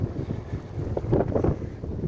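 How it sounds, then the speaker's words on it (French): Gusty wind buffets the microphone on a seaside jetty at Cap d'Agde, a steady low roar with swelling gusts throughout, close and fairly loud, with no voices. "Et désolé pour le vent, les amis"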